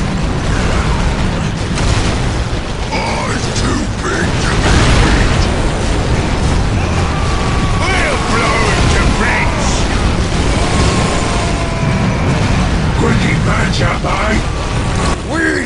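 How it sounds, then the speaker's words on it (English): Tank explosions and battle noise from the strategy game Dawn of War: Winter Assault, a continuous loud wash of booms, mechanical rumble and bursts, with voices talking over the fighting throughout. "This tank makes the loudest boom!"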